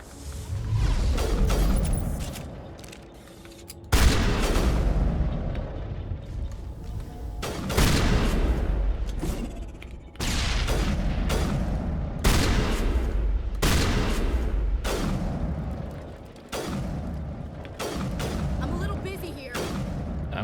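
Gunfire in Mass Effect Legendary Edition during a fight against Geth, with repeated loud shots and bursts spread across the clip, mixed with game effects and a player talking over the action.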